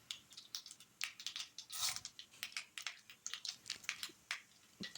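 Mustard seeds crackle and pop in hot oil for a lemon rice tempering, with rapid, irregular sharp snaps close by and a short denser burst near the middle.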